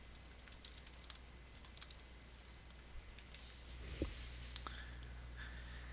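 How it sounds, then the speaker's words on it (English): Typing notes on a computer keyboard: quiet, close, irregular key taps over a steady low background hum, with no talk. "okay, so I can go ahead and type in my notes."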